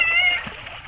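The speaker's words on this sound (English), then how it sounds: "Elena, don't splash him" Brief splashing in a Florida swimming pool where an Alaskan Malamute swims, with water churning briefly while a voice talks over it.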